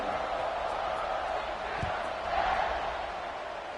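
Football stadium crowd roaring steadily at kickoff, a broad sustained cheer filling the space with a brief thump partway through.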